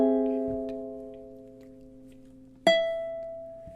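Ukulele chord from measure 24 of a Christmas song, a held chord slowly fading, then one sharp strum across all four strings that rings on alone, quiet and close.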